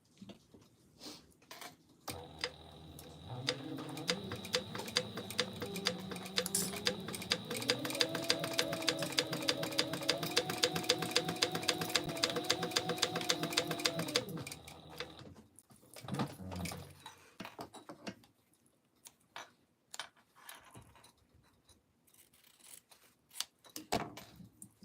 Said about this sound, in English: let me just sew this